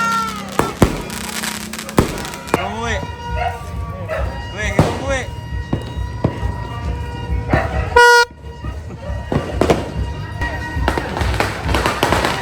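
Firecrackers and fireworks burst through a New Year's Eve night, with sharp bangs at irregular intervals, some close and loud, over a steady noisy background with car horns, a barking dog and people talking.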